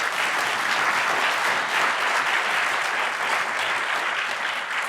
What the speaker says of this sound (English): Please, round of applause for our panelists.